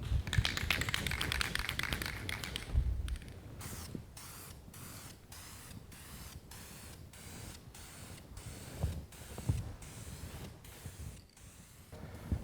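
Aerosol adhesion promoter primer sprayed in light coats onto a plastic car bumper, a close hissing spray in repeated short bursts with a brief pause between each pass, no voices.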